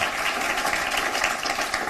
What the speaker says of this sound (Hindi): आप तालियां बजा के स्वागत कीजिएगा अनामिका वालिया